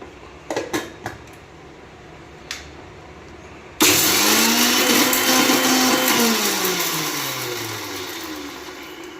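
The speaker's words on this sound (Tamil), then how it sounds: "ஜாருக்கு மாற்றி அரைச்சிடலாம்." Mixer grinder grinding roasted gram and tomato chutney, with a few clinks of the jar first, then a sudden loud motor whir that holds steady and slowly shifts pitch.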